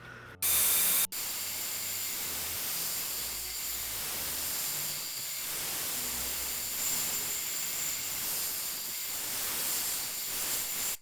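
Compressed air blasts into an engine piston during a carbon-cleaning fuel additive test, making a steady, loud hiss that lasts several seconds after a brief sharp burst at the start.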